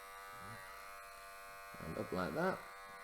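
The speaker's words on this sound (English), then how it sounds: "I'll get my trimmers and just do round here" Electric hair trimmers buzz steadily near the head during a home men's haircut while someone talks over the hum.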